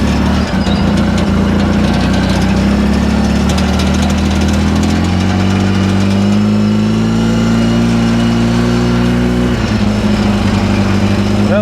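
A Polaris RZR 800S side-by-side engine runs steadily in low range on a first test drive, a loud continuous drone that rises in pitch partway through as it accelerates, then drops back, with no talking.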